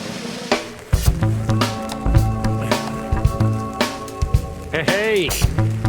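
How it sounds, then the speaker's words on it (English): Heavy mountain rain pounds loudly and steadily on a tent or nearby surface, with dense irregular thuds and splashes throughout and a voice briefly heard. "This is some heavy rain now."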